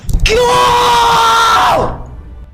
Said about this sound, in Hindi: ये कुछ लोग 31 दिसंबर के रात को 12 बजे बीच रोड पर चिल्लाने के लिए क्यों बेकरार रहते हैं